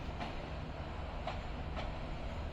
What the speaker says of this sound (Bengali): লম্বা একটি হুইসেল দিয়ে আমাদের ট্রেনটি কমলাপুর রেল স্টেশনের 7 নম্বর প্ল্যাটফর্ম থেকে ব্রাহ্মণবাড়িয়ার উদ্দেশ্যে ছেড়ে